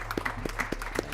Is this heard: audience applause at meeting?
yes